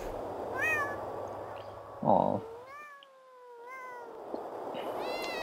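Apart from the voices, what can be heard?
many cats meowing in the video game Thirty Flights of Loving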